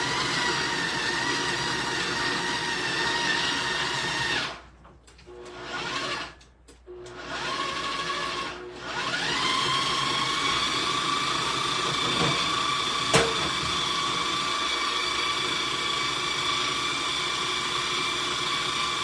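An electric grinder whirs steadily as it grinds ingredients for a meal, the motor note dropping out several times in short bursts before running on at a constant pitch, loud and close with no talk over it.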